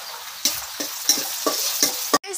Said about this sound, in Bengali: আম্মু এখানে হচ্ছে রসুন আর পেঁয়াজ দিয়ে দিল, এটা এখন ভেজে দিবে